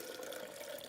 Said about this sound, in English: you're going to pour the developer into the sink or into the beaker